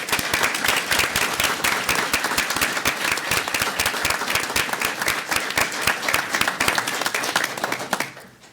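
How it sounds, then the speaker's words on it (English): A crowd claps for volunteers at a city manager's progress report meeting. The applause is dense and close, holds steady for about eight seconds, then tapers off quickly at the end. "Let's give them a round of applause."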